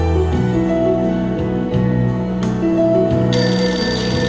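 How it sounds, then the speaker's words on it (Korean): A telephone rings in an animated story, where a father works raising and lowering a railway bridge; a steady electronic ringing tone repeats over a sustained musical background with no talk. "한 통의 전화가 옵니다."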